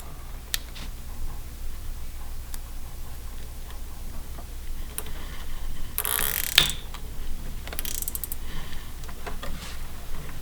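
Zip tie being ratcheted tight on a BlackHawk Intruder 250 4-stroke paramotor frame, with faint clicking ticks over low background hum and a few sharper zipping bursts near the end.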